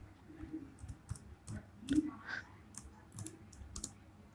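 Computer keyboard tapping while writing HTML code, scattered soft keystroke clicks at an uneven pace, close and quiet.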